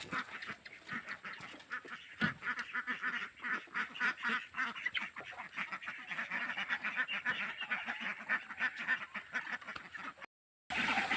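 Domestic ducks quack steadily in a dense, overlapping chorus close by, with honking mixed in, ending in a brief gap of silence.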